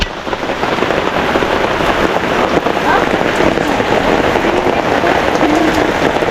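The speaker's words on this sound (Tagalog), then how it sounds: "So nag-umpisa na po yung ulan." Heavy rain pounding steadily on surfaces close by, a dense continuous roar with no letup.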